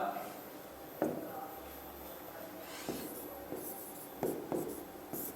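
Marker or chalk strokes on a classroom board come in several short bursts spread across a few seconds, heard close and fairly faint, with a low steady hum underneath.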